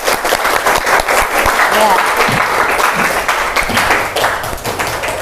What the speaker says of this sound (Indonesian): Ya, tepuk tangan untuk kita semua ya.